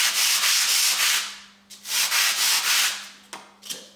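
Sandpaper scrubs back and forth against a foam block in close, steady rasping strokes, two long passes followed by shorter quick rubs, with a faint constant hum underneath.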